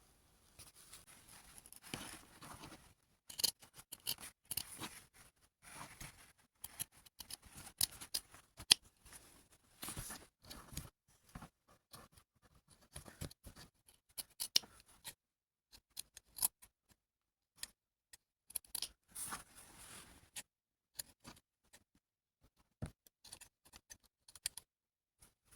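Scissors cut out fabric for a model horse saddle pad in a steady run of close, crisp snips and slicing clicks, faint and irregular, with no voices.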